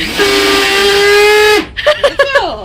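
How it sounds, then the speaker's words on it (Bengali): A kitchen mixer grinder making spice paste at an outdoor neighbourhood picnic lets out a loud, steady whine for about a second and a half, then cuts off as voices talk. "দেখবে এবার আমাদের মিক্সার ব্রেক ব্রেক ডান্স দেবে দেখবে"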